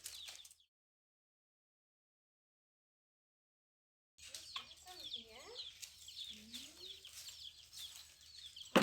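Chicks and a hen cluck and cheep softly outdoors near a rural kitchen, a brief sound at the start, then several seconds of near silence, then a run of faint chirps and clucks over low background noise.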